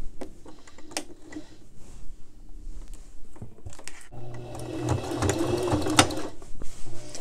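A sewing machine runs a straight stitch at a stitch length of 2.5 while elastic is sewn into a garment, its close rapid mechanical whirr building in the second half after some quieter handling noises.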